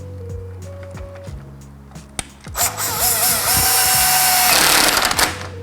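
A power tool drives 10mm grille bolts on a 4th-gen Ram 1500, a couple of short whirring bursts followed by a longer, loud, close run of buzzing and rattling.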